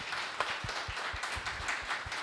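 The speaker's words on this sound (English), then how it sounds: "Please give them a round of applause." A crowd applauding steadily, with dense overlapping claps throughout, loud and sustained.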